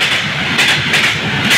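A train arriving from Sealdah at Diamond Harbour station gives a steady, close rolling rumble with brief periodic hiss-like bursts, loud and alone for a moment without talk.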